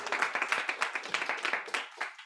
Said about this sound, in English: So a round of applause for Adam and all of his hard work.